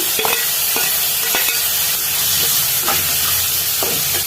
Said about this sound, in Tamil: இதில் நம்ம கட் பண்ணி வச்சிருக்க சுரைக்காய் சேர்த்து வதக்கலாம்